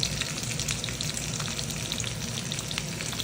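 Meat sizzles and fries in a pan on a Luxor Schott Ceran ceramic hob, a steady close crackle with dense spitting pops running throughout, no voices.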